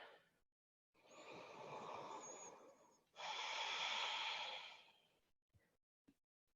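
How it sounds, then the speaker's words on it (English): Deep breathing during a power yoga class: two long, close, airy breaths, the second louder and steadier, followed by faint short exhalations. "Long, deep breaths"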